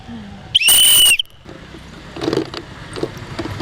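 A single sharp, shrill whistle blast lasting about half a second signals the start of a game, followed by quiet background with faint scraping and movement.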